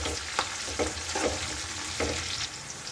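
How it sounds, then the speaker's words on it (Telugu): Onions frying in a pan, a steady close sizzle with intermittent stirring scrapes, no talking. "ఆనియన్స్ వేసుకుందాం బాగా దూరగా వేయించుకోవాలి"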